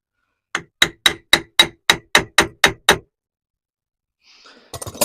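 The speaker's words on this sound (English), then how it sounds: "Just use a screwdriver and some sort of hitting device." Ten sharp, evenly spaced metal strikes of a hammer on a screwdriver, prying metal dust covers off a Club Car DS golf cart, ring out loud and close, followed by a short silence and then faint clatter.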